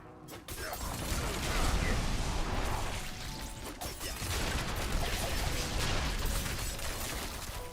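Dense bursts of small explosions and mechanical clatter from a video game trailer, loud and continuous, with crackling impacts and whooshes layered throughout.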